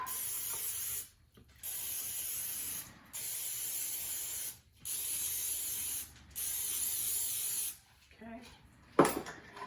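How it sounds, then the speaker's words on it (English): Cooking spray hisses onto food in several steady bursts of a few seconds each, with short pauses between, close and fairly loud; a brief spoken word comes near the end. "I'm gonna grease most of these up with some spray so they don't stick real quick."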